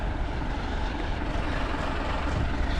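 An old truck drives down a road in the rain, giving a steady broadband engine drone and road roar at moderate loudness, continuous throughout with no talk.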